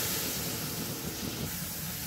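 A steady, hissing sizzle of water added to a hot pan of spices, constant and close, with no voices.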